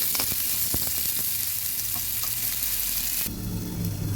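Potatoes dropped into hot oil left from frying fish, for a winter-vegetable fish curry, sizzling loudly and steadily with a few sharp spatters, the hiss rising and changing near the end.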